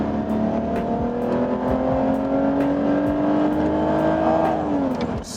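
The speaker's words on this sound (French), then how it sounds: "on va se faire un départ arrêté pour voir ce qu'elle a dans le ventre" A BMW Z4 in sport mode with traction control off launches from a standing start, its engine roaring loudly and steadily up through the revs before dropping at a gear change, heard close from inside with no talk.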